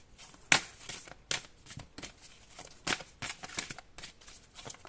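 Tarot cards are shuffled and drawn by hand, heard up close as a series of crisp, irregular papery flicks and snaps with quiet gaps between them and no talking.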